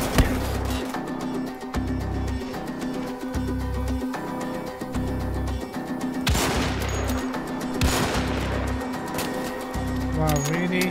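Gunfire in the video game Wolfenstein: The Old Blood, with repeated shots over a steady pulsing low game soundtrack, plus a couple of louder bursts around the middle and later on.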